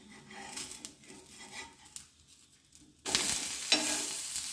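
Roti frying in coconut oil on a hot pan: a faint, crackling sizzle with light scraping, then a sudden, much louder burst of sizzling as the roti is flipped onto its other side.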